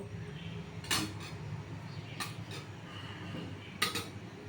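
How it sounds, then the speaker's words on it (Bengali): A spoon stirs sago payesh, a Bengali sabudana milk pudding, in a cooking pot: three sharp metallic clinks spaced a second or so apart over a low, steady background of soft scraping. "এটা ফোটা পর্যন্ত অপেক্ষা করতে হবে আর অনবরত নাড়তে হবে"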